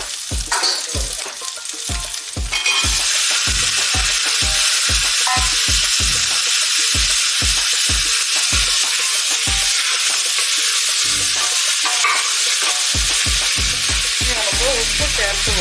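Sliced onion and chopped potato drop into hot oil in a pan for a potato stew, setting off a loud, steady sizzle that fills the clip, with scrapes of stirring at the start and end.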